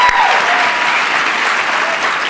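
Loud, close applause from a crowd at an awards banquet, a thick continuous clatter of clapping hands that holds steady throughout, faint voices blended into it.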